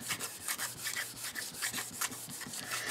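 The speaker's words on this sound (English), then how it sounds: "I want to rub it really well because I'd really like for it to pick up more than what it did in the last print." Paper rubbed firmly over an inked foam printing plate, making a close, steady series of dry scraping strokes in a quick, uneven rhythm, with no talking.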